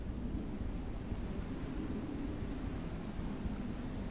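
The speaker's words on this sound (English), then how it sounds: "Just a little storm. You can sail in a storm." Thunder rumbles under heavy rain during a storm at sea in FAR: Changing Tides, a continuous dense roar of rainfall with low rolling booms throughout.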